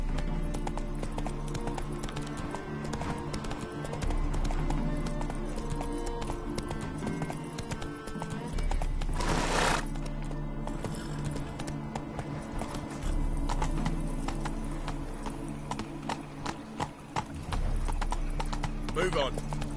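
Horse hooves clip-clop in a steady galloping rhythm from Geralt's horse in The Witcher 3 video game, loud and continuous beneath layered game sounds, with occasional whinnies and speech heard alongside.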